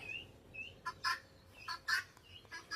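Harsh, raspy calls of a female guinea fowl repeat in quick uneven bursts over a steady low outdoor rumble. No one speaks.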